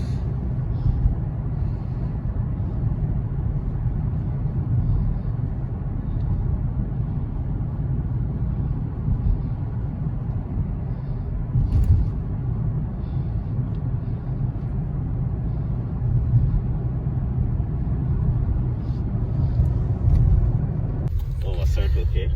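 A car driving on a road in Canada, heard from inside as a steady low engine and road rumble throughout, with passengers talking over it.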